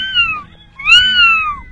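A voice mimics a kitten with two high, thin meows, the second one longer, close and clear.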